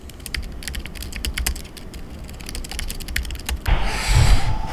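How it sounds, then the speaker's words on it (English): Fingers type fast on a computer keyboard at an office, a dense run of close, crisp clicks that gives way to a louder rustling, rumbling clatter near the end. "So here's some keyboard ASMR for you all."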